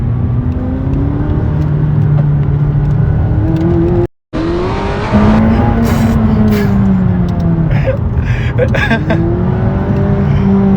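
McLaren 540C sports car accelerating hard with manually selected gear shifts, its engine note climbing loud and close, with a brief cut at a shift before it rises again, while a person talks over it.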